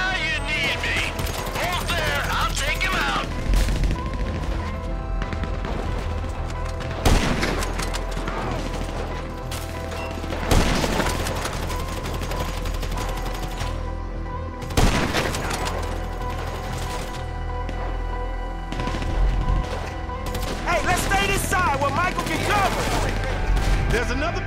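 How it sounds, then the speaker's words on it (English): Video game shootout: sustained bursts of gunfire and sniper shots, with mechanical clatter, run continuously while characters shout over the action. "Sniper fire!"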